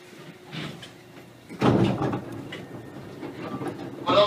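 A Hankyu electric train rumbles and clatters on its rails arriving at Kyoto-Kawaramachi, with a sudden louder burst of rattling partway through and a steady mechanical hum underneath.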